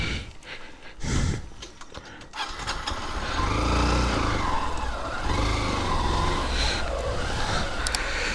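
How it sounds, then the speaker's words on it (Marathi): A motorbike engine starts up and runs steadily, rumbling close by as it is ridden up and parked at a house gate, preceded by a few short clunks. "आणि गाडी मस्त लावायची वरती."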